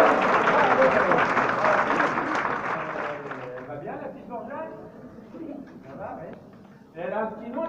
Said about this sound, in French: On l'applaudit bien fort, mesdames et messieurs!